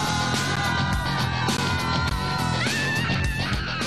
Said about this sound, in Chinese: 上一分钟欢呼呐喊击掌叫好